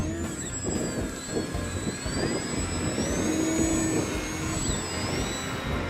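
Electric RC biplane, an ElectriFly Reactor Bipe by Great Planes with a Turnigy motor, flying overhead: a high whining motor note rising and falling as it passes, with wind noise and outdoor rumble beneath.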